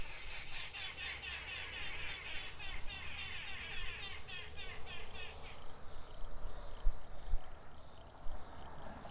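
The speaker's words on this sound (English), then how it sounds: "Mannikins, a mixed flock of mannikins" A mixed flock of red-backed and bronze mannikins in a Lilongwe garden gives thin, high chirping calls, repeated and fairly faint, over steady insect buzzing and a low murmur of background noise.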